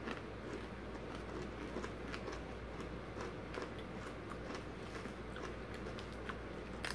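Crunchy chewing of a peanut rice cake close to the mic, with irregular crisp bites and crackles over a steady low background hum.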